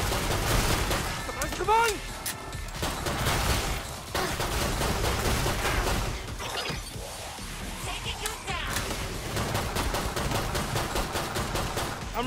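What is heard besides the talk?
gunfire in the video game Killing Floor 2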